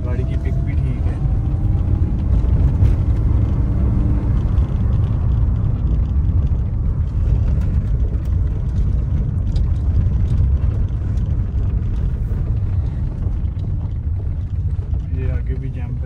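A 2012 Suzuki Swift drives over potholes, heard from inside the car as a steady, low road and engine rumble with no distinct suspension knocks, under continuous talk.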